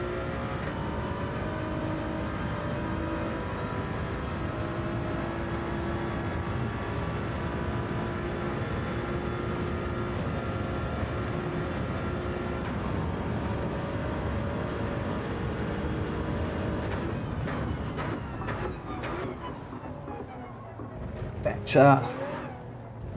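A racing car engine in a video game drones steadily at high revs for a long stretch, shifting pitch slightly, with a brief louder burst near the end.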